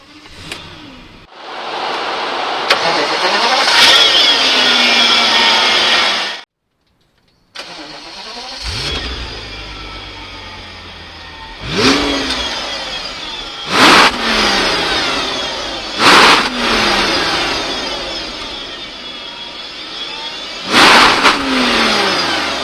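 An Audi A8 W12 6.0 starts and idles on a test drive, then its engine revs up repeatedly in several loud, rising bursts separated by smoother cruising, close and clear with no voices.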